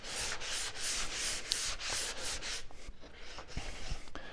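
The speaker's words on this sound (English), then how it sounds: "sand the profiles just a little bit with the corner of your sponge" A fine-grit 3M sanding sponge rubs back and forth over wooden profiles in steady, close scratchy strokes, softening and turning to lighter taps and scrapes toward the end.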